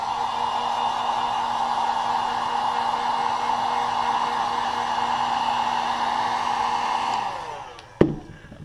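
Heat gun blowing on a sole protector of a Jordan VI sneaker: a steady, close, humming whoosh with a tonal whine that runs evenly for about seven seconds, then cuts off, followed by a single sharp click.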